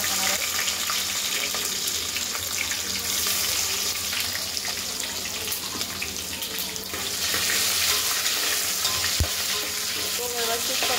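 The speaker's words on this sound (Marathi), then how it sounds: "लसूणचा त्याला टेस्ट यायला पाहिजे, यासाठी चांगली ती भाजून घ्यायची तेलामध्ये।" Finely chopped garlic frying in hot oil with bay leaf, cloves, cinnamon and cardamom, a dense steady sizzle with occasional stirring scrapes, close up.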